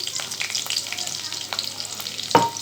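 Green chillies and finely chopped garlic hit hot oil in a pan while cooking mushroom mandi rice, giving a steady bright sizzle with light stirring scrapes and a sharper clatter near the end, close and with no voices.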